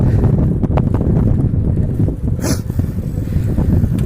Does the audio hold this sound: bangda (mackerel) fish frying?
no